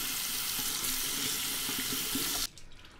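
Cold water gushing from a tap into a sink to cool a hurt hand, a loud, steady splashing rush that stops abruptly near the end and leaves quiet room tone.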